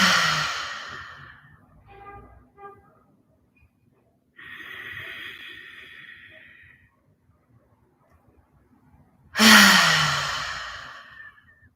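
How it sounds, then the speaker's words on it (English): Slow, deep meditation breaths, each a long audible inhale and exhale drawn out over a couple of seconds, several in sequence with quiet gaps between, close and clear with no talking. "Take a deep cleansing breath."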